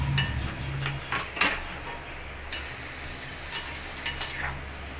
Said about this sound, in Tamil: இப்போ முட்டை வந்துட்டு ஒரு சைடு வந்து நல்லா வெந்துடுச்சு, கொஞ்சம் நல்லா ட்ரையாக ரோஸ்ட் ஆகிடுச்சு. நம்ம திருப்பி போட்டுக்கலாம்.